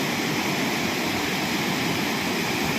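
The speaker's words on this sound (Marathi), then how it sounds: "नदीचं ना केवढं मोठं असं रौद्र स्वरूप झालं आहे" A flooded river in monsoon-swollen hills of Konkan rushes in a steady, loud, unbroken roar of churning water, broadband and constant throughout with no voices.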